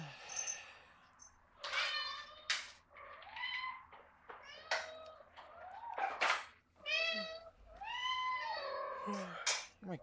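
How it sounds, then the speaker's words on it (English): Cats begging for food, meowing loudly and insistently in repeated yowls, several close calls overlapping with little pause between them. "My favorite thing to listen to is cats begging for food because they're so loud. Their meows are so funny to me."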